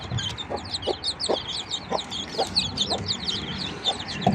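Chickens, including a white Leghorn rooster, clucking in a busy flock, with repeated short clucks and low calls over a farmyard murmur, fairly close.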